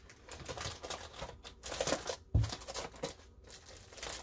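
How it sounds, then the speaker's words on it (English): Packing tape torn from a dispenser while packaging eBay items for shipping, heard as crinkly tearing and crunching with a sharp snap midway, close and moderately loud. "I had it ready to tear off the tape dispenser."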